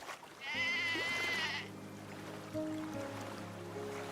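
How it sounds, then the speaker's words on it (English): A sheep (ewe) bleats once in a video game, a single wavering cry of about a second over soft, sustained background music. "The ewe sounds like a sheep."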